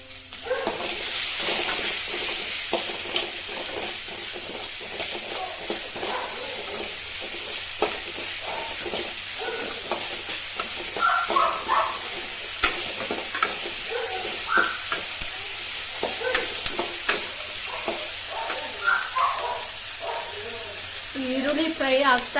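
Onions with a little salt frying and being stirred in a pan until browning, a constant close sizzle broken by frequent spatula scrapes and clicks, with occasional faint talk in the background.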